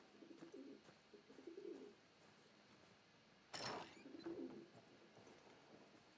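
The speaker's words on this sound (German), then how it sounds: "Ich höre Tauben." Soft, low pigeon coos repeat in the background of Battlefield 1 with a faint ambient hum, broken once by a brief sharp clatter.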